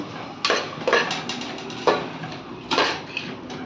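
Chopped sour tomatoes go into frying masala in a pan, heard as a handful of sharp metallic clinks and scrapes of utensil against pan, spaced irregularly over a low kitchen hum.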